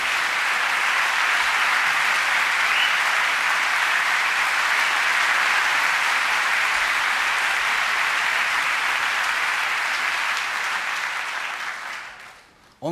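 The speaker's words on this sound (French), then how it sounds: "Vous pouvez applaudir le chef d'orchestre." A full concert hall applauds the orchestra conductor after a symphonic piano show, loud continuous clapping from many hands that holds steady for several seconds before dying away abruptly at the end.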